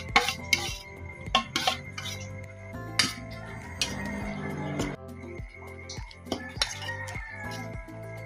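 A utensil stirs cabbage and potatoes in a pan, with close, repeated metallic clinks and scrapes in an uneven rhythm, some louder knocks against the pan, and a faint background hum.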